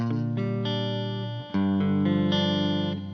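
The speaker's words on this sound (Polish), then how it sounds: "no ale żeby jednak odpalić sobie przester" A Dean electric guitar rings out heavily distorted, sustained chords and notes through an effects unit, loud and continuous with a sharp change of chord midway, with no voices.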